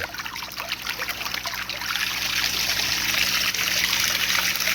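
Water from a pond circulation pump running in an indoor pond, a steady loud rushing trickle and splash that grows a little fuller after the first two seconds and holds evenly.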